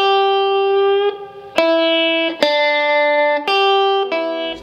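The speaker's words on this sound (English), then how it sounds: "Now for extra expression, try bending the note as you hit it." A distorted electric guitar plays a short blues pentatonic lick of several sustained, sharply picked notes, some bent, ringing loud and close with no talking.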